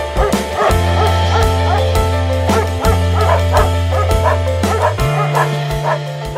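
Hunting dogs on a wild boar hunt near Belgrade, Serbia bark and yip in rapid, repeated bursts, with several close, loud dogs overlapping throughout.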